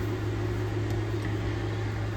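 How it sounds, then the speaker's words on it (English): A microwave oven hums steadily as it heats a glass dish of peanut butter and honey, a constant low drone with fan whir running alone without pauses. "you're going to microwave that for 1 minute so that it's easy to stir"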